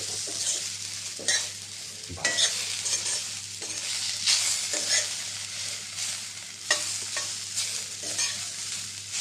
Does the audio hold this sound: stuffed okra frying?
yes